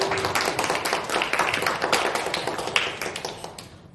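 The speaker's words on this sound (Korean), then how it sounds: "박수 한번 더 주세요" An audience at a library book concert claps, a crisp, fairly close patter of individual hand claps that stays busy and gradually tapers toward the end.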